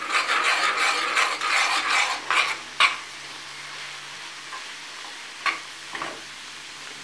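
Rough, scraping strokes of a spoon stirring pearl millet flour into boiling water in a pan, a thick mixture, busy at first, then settling into a few sparse scrapes over a quiet hum.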